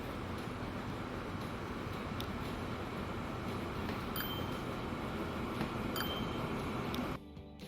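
Train rolling along a rail line in Transport Fever 2, a steady rumbling wash with faint metallic clinks, fairly quiet and continuous before cutting off near the end.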